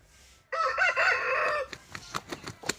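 A fighting rooster kept for sale gives one loud, close crow lasting about a second, followed by a run of short, sharp clucks and clicking noises.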